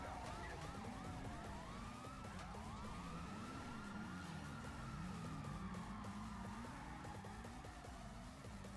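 Stock GTA police sirens in a video game wail and yelp at the same time, several tones rising and falling over one another in a steady, faint electronic blare with no talking.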